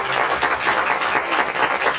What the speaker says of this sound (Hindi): ताली बजा जोर से परमेश्वर के लिए